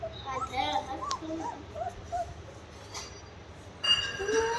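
A small dog whimpers and yips in short high cries amid people talking, with a louder burst of whining near the end.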